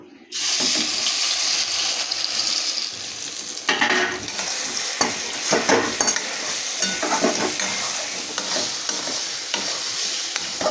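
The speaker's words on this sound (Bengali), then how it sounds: "এবার আমি ডালটাকে তেলের মধ্যে দিয়ে ভালো করে নেড়ে নেব" Ground lentil paste fries in hot oil in a wok, a loud steady sizzle with scraping stirring strokes and clattering of the spatula throughout.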